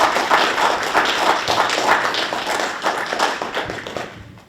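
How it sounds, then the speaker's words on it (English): A media festival audience claps and applauds, a close, fairly loud burst of clapping that carries on evenly and then tapers off at the end. "please put your hands together, please, and a round of applause"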